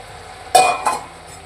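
Spice powders being stirred into onions frying in a pan: two quick scraping, sizzling stirs close by, the second softer, over a faint steady background hum.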